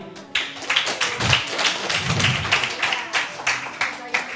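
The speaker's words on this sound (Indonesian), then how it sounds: "Kita tepuk tangan sekali lagi." Audience clapping hands at a church gathering, a dense patter of claps running steadily through the clip under a murmur of voices.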